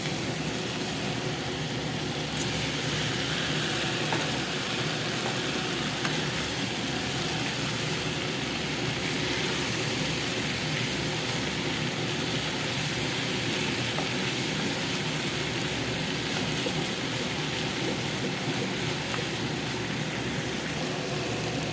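Fish sizzles and fries steadily in a pan with tomatoes for sinigang, a continuous close crackle and hiss with no one talking.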